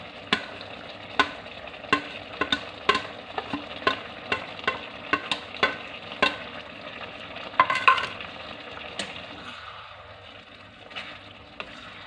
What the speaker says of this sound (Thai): แตงกวา นะคะผัดให้พอสลด อย่าให้สุกมากนะคะ